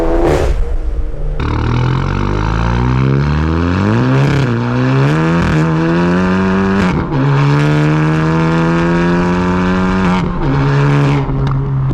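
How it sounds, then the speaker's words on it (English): A stage 2 EQT-tuned VW GTI on snow tires, traction control off, does a rolling burnout in second gear. Its engine revs loud and close, pitch climbing in repeated surges with brief dips, with no talk. "This is rolling into it in second, traction control off, just on snow tires, stage 2 EQT. Just a rolling burnout."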